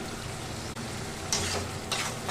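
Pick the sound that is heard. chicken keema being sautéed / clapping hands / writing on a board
chicken keema being sautéed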